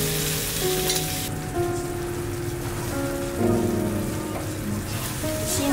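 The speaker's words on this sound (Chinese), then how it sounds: "炒到它收乾水就可以了" Korean rice cakes stir-fry in oil over low heat until the liquid cooks off, giving a continuous rain-like sizzle with faint steady tones running behind it.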